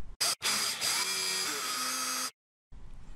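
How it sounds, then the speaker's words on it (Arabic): An electric drill boring a hole in scrap wood for a bolt, a loud whine starting twice in quick succession, holding steady for about two seconds, then cutting off abruptly before faint background resumes. "نجيب بنطة تكون نفس مقاس المسمار ونعمل ثقب عند العلام اللي عملناه"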